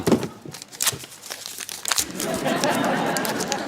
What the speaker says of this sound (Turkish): Hemen yırtıyorum.